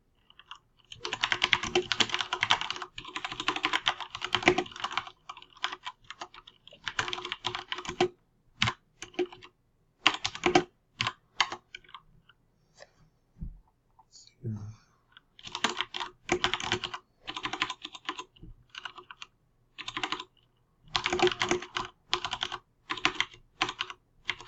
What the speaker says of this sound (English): you're seeing my terrible typing skills